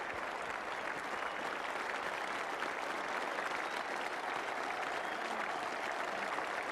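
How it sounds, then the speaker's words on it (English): Capacity crowd at the Oval during the 1985 Ashes sixth Test giving a departing batsman a sustained ovation, a dense, even wash of distant clapping that holds steady and fairly faint without pause. "Great ovation for a great player."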